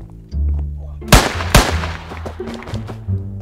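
Sniper rifle gunshots in the video game Minecraft: two sharp, loud cracks about half a second apart over game music and background sounds.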